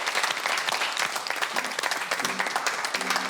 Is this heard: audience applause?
yes